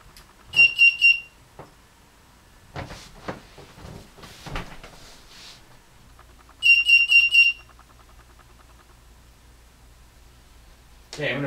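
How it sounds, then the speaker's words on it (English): A high electronic alarm from a trip-wire laser security system beeps in two rapid bursts of chirps, separated by clattering handling noises and a low hum. "I will break the laser, and the alarm will go off"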